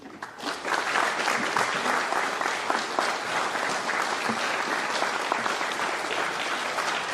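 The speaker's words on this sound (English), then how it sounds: "Final big round of applause for the parents and the work that you do, please." An audience at a 2021 National Junior Honor Society induction ceremony gives the parents a big round of applause, a dense, sustained wash of clapping that swells quickly and holds steady.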